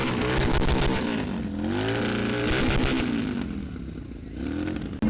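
A motorcycle fitted with a VP Designs exhaust made in 2014 revs at an outdoor bike show, its engine rising and falling in several throaty swells, loud and close.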